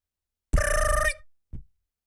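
A telephone bell rings once for about half a second, followed by a short low thud a moment later, with silence around it.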